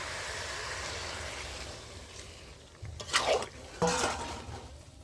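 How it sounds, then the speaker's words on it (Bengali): Water poured into a pot of browned chicken on the stove, a brief splashing gush followed by a second shorter pour, close and fairly soft over a steady background hiss. "এবার আমি এর মধ্যে জল দিয়ে দিচ্ছি"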